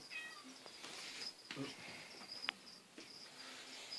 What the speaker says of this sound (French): Il y a mon chat qui miaule, elle veut rentrer